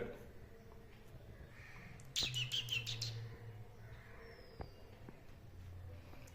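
A small bird at its nest gives a quick run of high chirps, with quieter background noise and a couple of faint thumps.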